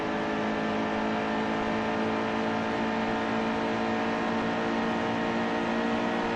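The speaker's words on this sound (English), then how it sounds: "that's me feathering feathering the accelerator" A NASCAR race truck engine in NASCAR Heat 2, running at Kentucky, drones loud and close with a sustained whirring roar as the accelerator is feathered, its pitch holding fairly steady with slight surges.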